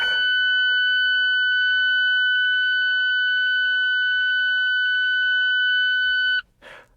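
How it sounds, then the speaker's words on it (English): A steady electronic ignition warning tone in an Alfa Romeo 4C sounds continuously for about six seconds as the key is turned, then cuts off abruptly, followed by a brief faint noise. "this beep, it happens every single time when I turn the car on"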